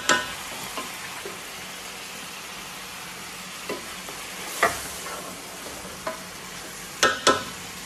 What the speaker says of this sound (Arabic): أبدي الحين أحمس مع البهارات